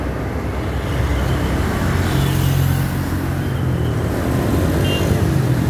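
Slow, jammed holiday return traffic on the road through Ajibarang, a constant broad roar of passing cars, buses and trucks, with a brief engine swell partway through.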